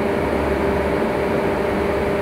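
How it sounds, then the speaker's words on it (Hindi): Electric fan noise captured through a budget collar microphone, heard as an even, muffled hum and hiss that holds steady throughout, with no voices. "इसमें फ़ैन का आवाज़ बहुत कम हो चुका है"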